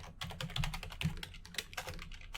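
Rapid typing on a computer keyboard, keys clattering in an irregular close-up burst with no voices.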